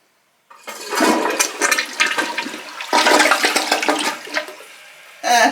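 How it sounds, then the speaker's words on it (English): A hotel room toilet flushes with a strong, rushing burst of water that swirls and gurgles for several seconds, then tails off into a quieter refill trickle before a second loud surge at the end. "I want to see the flush power on this toilet."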